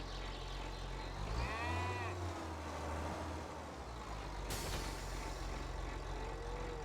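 Cows low in the farming video game Farming Simulator 25, a drawn-out moo near the start over steady low vehicle rumble, with a fainter animal call later and no talk.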